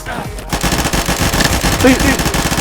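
Rapid automatic gunfire from the video game Call of Duty rattles loudly and continuously in close, fast bursts, with a brief voice faintly mixed in.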